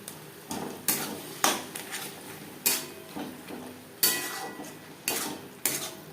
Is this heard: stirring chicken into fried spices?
yes